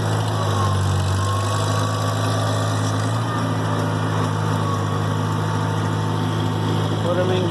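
A tractor engine starts up and settles into a steady, close idle, running continuously with a light mechanical vibration and no pauses.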